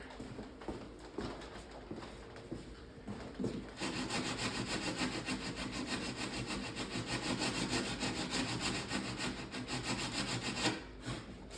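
Laminated edge of a Wizard of Wor arcade cabinet is sanded by hand in close rhythmic strokes: a few light rubs at first, then a sustained run of brisk, fast scraping before it stops near the end.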